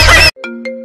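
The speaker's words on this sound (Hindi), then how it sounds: "फोन आ रहा है, फोन उठा।" A mobile phone rings with a tonal electronic ringtone, sustained chiming notes pulsing in a short repeating pattern, heard clearly and close right after a loud burst of other sound cuts off.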